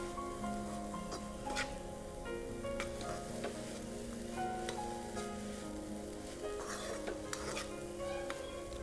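Steady sizzling of beetroot and onion frying in a pan, with occasional stirring scrapes and clinks throughout, close and continuous.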